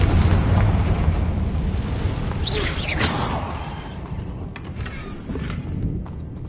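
Confringo fire-blast spell in Hogwarts Legacy, a roaring burst with a swooshing flare and rumbling low boom, loud and close, followed by fading crackles.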